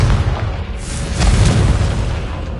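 A Confringo blasting spell in a Harry Potter video game goes off as a deep, rumbling explosion, loud and close, with a brighter crackling burst in the middle and a sustained low roar throughout.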